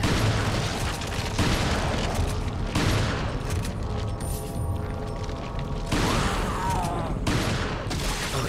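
Repeated gunshots and booming blasts from Resident Evil 4 come in several heavy, close bursts across the stretch, mixed with mechanical game noise and a voice speaking in places.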